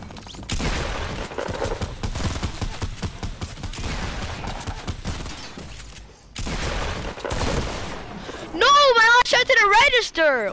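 Rapid bursts of video game gunfire crackle through the clip, with talk over much of it, and a brief rising electronic warble near the end.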